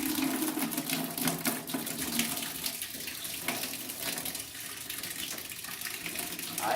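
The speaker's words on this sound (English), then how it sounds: "It will be quite a long time for this water to drip so all the pipes empty out." Water drips and drains out of a building's plumbing during a shutdown, a steady broadband splashing and trickling that runs continuously and fairly close, with no talk over it.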